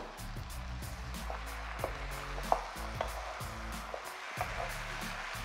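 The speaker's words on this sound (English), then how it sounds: "And now I'm going to add the can of tomatoes." Canned chopped skinless tomatoes go into a pan of frying potatoes, giving a soft steady sizzle with light stirring clicks and scrapes throughout, fairly quiet and without talk.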